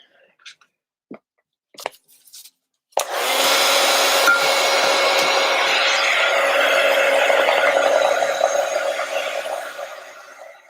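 A heat gun used on a typewriter cover fires up after a few brief knocks and handling sounds, then roars as a steady, loud, close blowing hiss that eases slightly toward the end.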